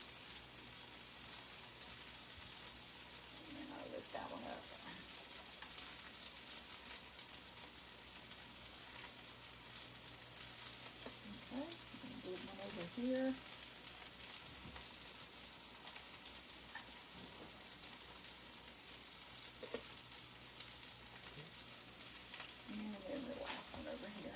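Pancakes cook in melted butter on a stovetop pan, giving a steady, fairly quiet sizzling hiss throughout with a few soft scrapes and clicks of utensils scattered across it.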